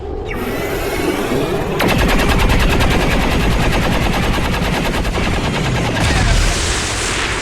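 Rapid automatic gunfire from an XCOM 2 battle, loud and sustained, with bursts of fast repeating shots and a heavier volley near the end, a voice faintly in the background.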